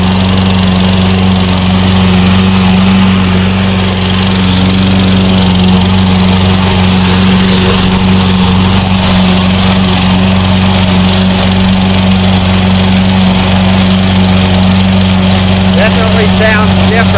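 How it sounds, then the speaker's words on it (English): A gas lawn mower engine drones loudly and continuously up close, a steady low hum that holds throughout. "start the gas mower up and run it a little bit"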